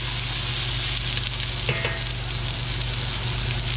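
Onions sautéing in a pan for Filipino mung bean stew (ginisang munggo) make a steady, close sizzle and fry with a brief stirring scrape midway, all under a constant hum from a running kitchen exhaust fan.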